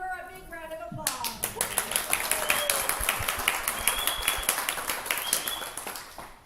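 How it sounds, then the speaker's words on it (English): An audience at an old west melodrama applauds the best actor, a dense burst of many hands clapping that starts abruptly after a brief voice and holds steady and loud, with a few whistles and cheers mixed in. "please give her a big round of applause."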